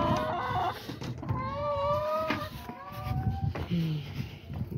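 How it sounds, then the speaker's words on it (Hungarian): Hens cluck and cackle near a farmyard water tap, several short bird calls rising and falling in bursts at close range, mixed with a person talking and low background noise. "a tyúkocskák jönnének kifele folyton"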